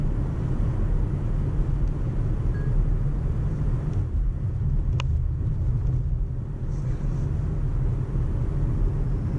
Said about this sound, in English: driving back into the snow